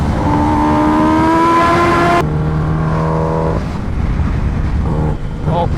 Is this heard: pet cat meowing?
no